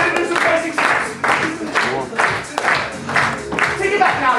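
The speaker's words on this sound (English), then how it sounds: "Clap your hands." An audience at a comedy sketch show claps along in steady rhythmic bursts, loud and close, while a voice talks and music plays underneath.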